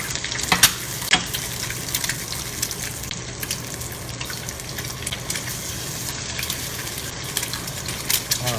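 Eggs frying in a pan over medium heat, a steady close hiss and crackle throughout with a few sharp pops early on.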